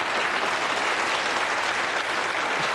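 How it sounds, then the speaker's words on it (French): Studio audience on a French TV quiz show applauding steadily, a dense continuous wash of clapping for the whole stretch with no voices on top. "il ne peut pas, on va l'applaudir."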